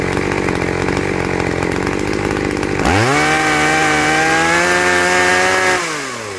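Petrol chainsaw engine running loud and close while its carburetor is adjusted, idling roughly at first, then revving up to a high, steady whine before starting to fall away.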